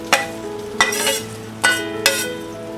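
Roasted puffed rice and dry coconut being stirred together in a pan for murmura chivda, with four sharp scraping, rustling sweeps of a spoon through the crisp, dry mixture, close and fairly loud, no talking.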